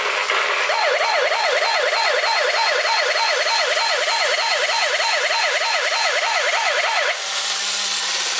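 A loud, continuous two-tone wailing siren from the IC sound chip of a Giant Robot Car 2001 transforming toy, cycling rapidly and evenly for about seven seconds before cutting off into a duller electronic hum.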